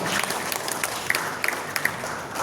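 Audience applause at a youth organization's Youth Pledge ceremony, a dense, steady clapping from a crowd with a few sharper individual claps standing out, continuing throughout.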